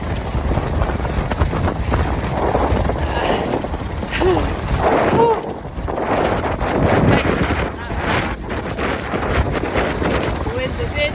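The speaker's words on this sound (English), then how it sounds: "The wind is in my face." Strong wind buffets the microphone continuously while someone walks on a rainy trail, a steady blustery roar with faint rattles and footfalls underneath.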